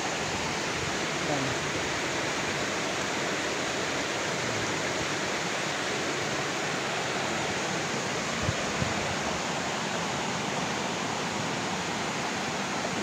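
River water rushes continuously past large rocks on Mount Isarog, a dense, even broadband roar that stays loud and steady throughout.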